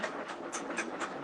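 A pallet jack rolls across a floor with a faint, rhythmic clattering rumble like a passing train, a series of soft, evenly spaced knocks in the background.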